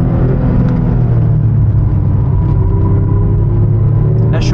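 Porsche 911 GT3 engine rumbling steadily from inside the car, with a low mechanical drone and faint whine from the rear axle, no voices.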